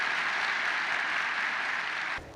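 Audience applause at a university campus event, a continuous bright wash of many hands clapping that carries on evenly, then drops off abruptly near the end.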